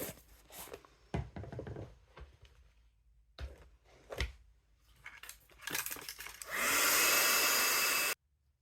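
A hair dryer blows steadily and loudly for about two seconds to dry an art journal page, cutting off abruptly, after scattered handling taps, knocks and rustles of paper and tools.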